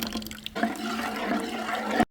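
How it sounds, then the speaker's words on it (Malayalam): Coconut water poured in a steady, splashing stream for about two seconds, close by, then stopping abruptly. "ഇതിലേക്ക് ഇനി നമ്മൾ ഇളഞ്ഞിൻ്റെ വെള്ളം ഒഴിക്കട്ടോ"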